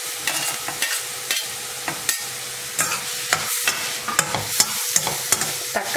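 Chopped tomatoes fry in a pan for paneer bhurji, a spoon scraping and stirring in repeated strokes over a soft, steady sizzle, close up with no talking.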